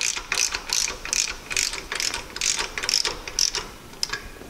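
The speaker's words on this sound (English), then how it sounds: "Then take your wrench, tighten it until it's good and snug." A ratchet wrench tightens a bolt on a longarm quilting frame pole end, giving about ten crisp, evenly spaced ratcheting bursts, close and clear with no talk.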